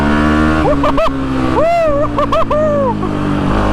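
Can-Am DS450 quad engine loud and close while riding, buzzing steadily, then rising and falling in pitch through several quick revs and gear shifts, with wind roar.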